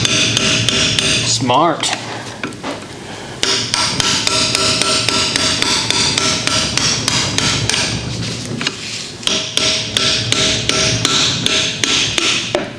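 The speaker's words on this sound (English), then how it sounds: "Claw hammer, yeah. Let's pop this cap off." Claw hammer knocking on the cap of a 700R4 automatic transmission from a 1989 Chevrolet 1500 during a teardown, a long run of sharp, close metallic taps in steady rhythm, briefly interrupted, with a short spoken word.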